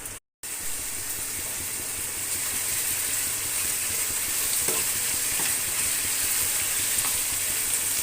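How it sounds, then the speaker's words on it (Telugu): Sliced onions and green chillies sizzle steadily in hot oil in a pan for a crab curry, a loud continuous frying hiss with occasional stirring scrapes after a brief silent gap at the start. "ఉల్లిపాయలు పచ్చిమిరపకాయలు వేయించుకుందాం"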